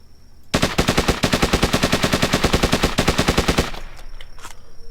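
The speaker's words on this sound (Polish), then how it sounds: "On nie wie skąd ja strzelam" A rapid burst of automatic gunfire in the video game Hurtworld, loud and close, with about three seconds of evenly spaced shots that then stop and trail off.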